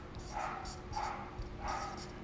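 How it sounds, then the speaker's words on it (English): A dog barks in three spaced bursts, faint and somewhat distant, over a low steady room hum. "Sorry for the barking dog."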